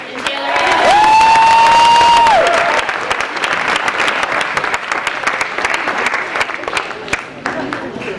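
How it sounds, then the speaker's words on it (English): Audience applause for Taylor at the 2015 Rising Stars Awards Ceremony, a full room clapping steadily and loudly for several seconds, with a sustained whistle near the start and some crowd noise mixed in. "I'll give a round of applause to Taylor."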